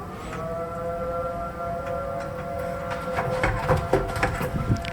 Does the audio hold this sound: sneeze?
no